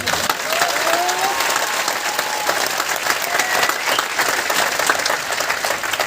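Audience applause fills a hall in Ludhiana, Punjab at a product presentation, steady dense clapping that holds loud and even throughout the whole stretch with no talk over it.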